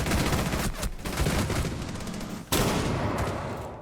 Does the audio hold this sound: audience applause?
no